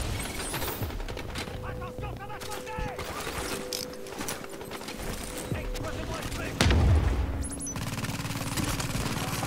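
Machine gun gunfire in the video game The Division, with repeated sharp shots and bursts running over a steady bed of game noise, plus a heavier thump near the end.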